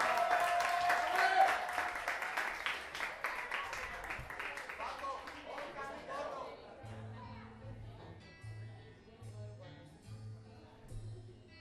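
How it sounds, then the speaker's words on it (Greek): Karaoke-night crowd applauding a singer named Kostas, a loud burst of clapping with scattered voices that tapers after a few seconds into background chatter and a thumping music beat. "Ένα χειροκρότημα στον Κώστα"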